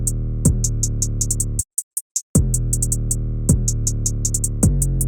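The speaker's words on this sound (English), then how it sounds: "And next up we have the hi-hats, which sound like this." Rapid, crisp hi-hat ticks from a remake beat built in FL Studio, riding over a deep booming 808 bass, with a brief dropout midway before the loop resumes.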